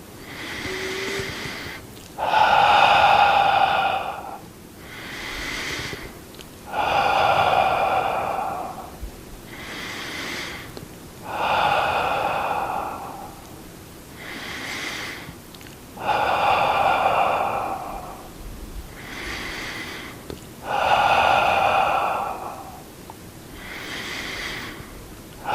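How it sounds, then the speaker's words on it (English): Deep, audible breaths come during seated yoga, a slow steady cycle of about six long, loud exhalations, each followed by a quiet pause, heard up close with no talking. "Exhale, pressing forward, breathing in, breathing out."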